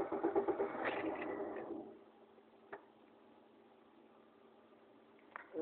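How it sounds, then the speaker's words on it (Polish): A car engine cranks and catches, then settles into a quiet idle, with a couple of faint clicks later. "odpala auto."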